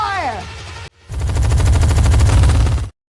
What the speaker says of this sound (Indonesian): Dan ketika Mama melihat kemunculan Dredd, ia pun segera memerintahkan anak buahnya untuk menembakkan senjata-senjata itu